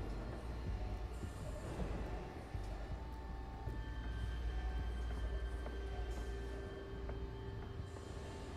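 Inside a sky train car in the video game Batman: The Telltale Series, a continuous low rumble carries faint steady tonal hums and occasional rattles, with no talking.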